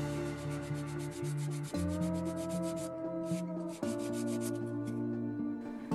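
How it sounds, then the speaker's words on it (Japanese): Sandpaper rubs over cured epoxy putty on a plastic model kit part, a steady close scratching of repeated quick strokes with a brief pause midway and no talking. "硬化が終わったらペーパーで整えます。"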